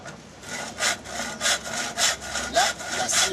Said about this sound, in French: Là, la scie intervient.